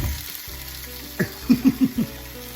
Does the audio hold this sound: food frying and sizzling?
yes